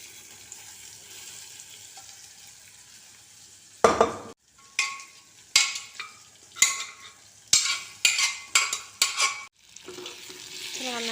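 Beef is stirred into hot spice powders in a pan, with a soft sizzle under a run of sharp scraping strokes, about eight of them, loud and close, following a quiet stretch.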